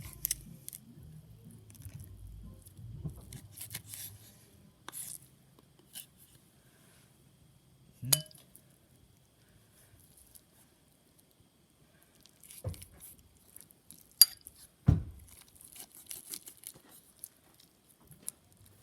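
Knife cutting through a squirrel joint during skinning: a few faint, sharp snipping cracks stand out over quiet background, with soft handling rustle early on.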